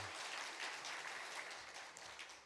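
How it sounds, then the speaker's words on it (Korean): A church congregation claps at a Sunday morning service, a steady, moderately distant wash of applause filling the room for the whole stretch, with no voices over it. "다시 한번 박수할까요?"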